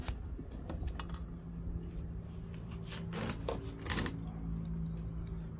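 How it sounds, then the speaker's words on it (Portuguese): Insulation being stripped off an electrical wire by hand while repairing a weak washing machine motor by splicing the wire to a capacitor: faint, close scraping and clicking with a few sharper snips near the end, with no talk. "Eu vou descascar um pouco esse fio."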